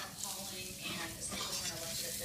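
Sausage and flour sizzling together in a pan for Southern-style gravy, a faint continuous frying hiss with soft stirring texture.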